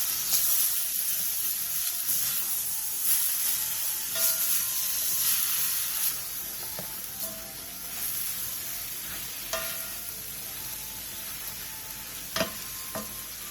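Seasoned meat and vegetables stir-fry over medium heat in a pan, a steady close sizzle and hiss with occasional scraping stirs and light clinks.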